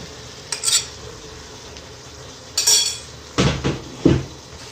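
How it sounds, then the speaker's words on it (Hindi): Marinated mutton coated in yogurt and spices being scraped and dropped into a cooking pot, with several distinct clanks and scraping strokes of a utensil against the metal, close and fairly loud, no talking. "अब इसमें डालेंगे अपना गोश्त मैरिनेट किया हुआ, और जो इसमें सारा मसाला है, बर्तन को साफ कर लेंगे, सारा इसमें डाल देंगे"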